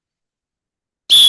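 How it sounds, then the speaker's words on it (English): A single sharp, loud whistle blast cuts in abruptly at the very end after near silence, a steady high shrill tone blown to signal the end of a hockey-themed segment. "Right, Jugsy, blow your whistle, please, to end the prison hockey predictions."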